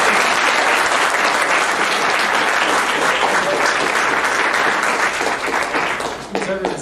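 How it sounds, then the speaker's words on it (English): A large audience at a 2010 senior awards day applauds the whole class, loud continuous clapping that holds steady and then begins to fade, with a voice briefly at the close. "let's give one round of applause for the entire class."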